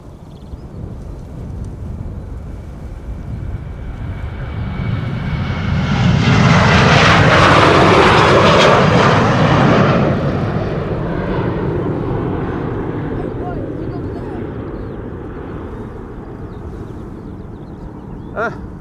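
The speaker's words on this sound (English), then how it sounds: "737-800 going to Helsinki, Finland." Boeing 737-800 jet airliner bound for Helsinki passing overhead near Schiphol Airport, a loud engine roar building from afar, peaking in the middle with a sweeping whine, then slowly fading.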